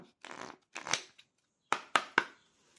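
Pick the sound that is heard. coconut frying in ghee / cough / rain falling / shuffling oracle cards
shuffling oracle cards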